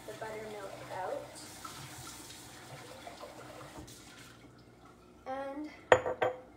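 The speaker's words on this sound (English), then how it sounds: "Give my jar a little rinse just to get the buttermilk out." A glass jar is rinsed under a running kitchen tap to wash out leftover buttermilk. Steady water flow is joined by clinks of glass and dishes, with a louder splash and clatter near the end.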